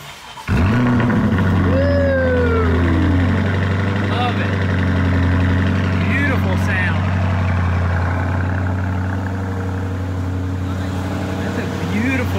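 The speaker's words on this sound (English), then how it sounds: "give them a little cold start with the original exhaust before we swap it out" A stock-exhaust Lamborghini Urus fires up from cold after months of sitting, a sharp start followed by a loud steady idle with rev flares, close by, with faint voices in the background.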